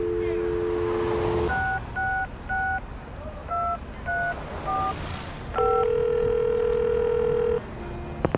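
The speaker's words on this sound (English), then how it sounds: "You pick up the phone, and to your delight, you get a dial tone." A steady telephone dial tone in the 2013 video game Leisure Suit Larry Reloaded gives way to a series of beeping keypad tones, then another long sustained tone, all clear and close.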